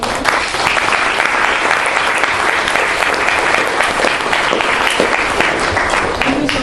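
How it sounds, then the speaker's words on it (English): An audience at a mentoring camp gives a long, loud round of applause: dense, even clapping that holds steady throughout, close and full. "very good round of applause?"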